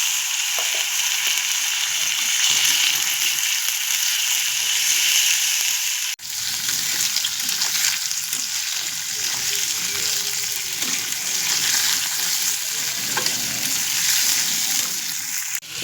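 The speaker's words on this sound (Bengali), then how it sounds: "এগুলোকে সব আমি একসঙ্গে একটু লাল লাল করে ভেজে নেব।" Chicken liver and onions fry in a pan with a continuous loud, bright sizzle and occasional bubbling, steady throughout with no voices.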